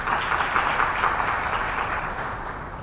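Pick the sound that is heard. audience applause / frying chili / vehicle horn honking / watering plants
audience applause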